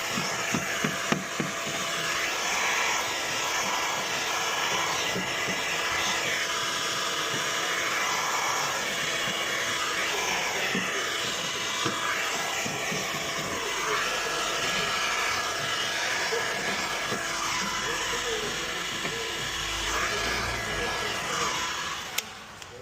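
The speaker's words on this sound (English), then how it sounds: "So we'll grab ourselves the heat gun. I'm gonna heat it up." A heat gun blows hot air onto window tint film during van window tinting. It makes a steady, close blower whoosh for the whole stretch, with a few faint clicks and handling noises.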